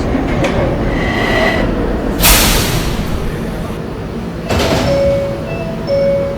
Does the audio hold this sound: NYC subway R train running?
yes